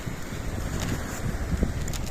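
Outdoor wind buffeting the microphone, a steady low rumble and hiss lasting a couple of seconds with no speech over it.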